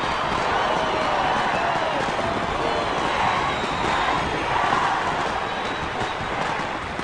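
Carnival crowd in Rio de Janeiro cheering and shouting for a winning performance, a dense, loud, continuous roar of many voices filling the space with no breaks.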